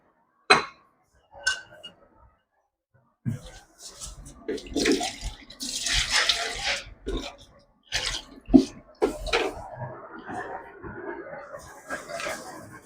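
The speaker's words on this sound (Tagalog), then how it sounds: "Lalagyan ko lang po ito ng tubig." Water poured into a metal cooking pot set over a vegetable-oil-fueled stove, a broad splashing, running sound rising after a few short knocks and clatters, moderately close, with a voice speaking briefly around it.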